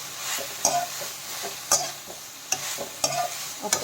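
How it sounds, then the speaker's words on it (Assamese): Potatoes and greens stirred in a pan produce a soft background sizzle broken by four sharp spoon scrapes and taps at an even pace. "এতিয়া এইখিনি অকণমান লৰাই দি পেলাই ঢাকন মাৰি থৈ দিম।"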